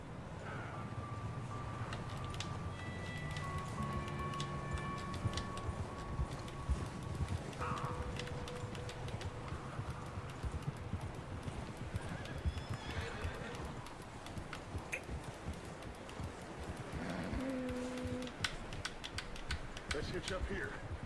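Horse hooves clip-clop in Red Dead Redemption 2, a steady walking rhythm under faint background game sounds, with a brief whinny and talk between riders, moderately close.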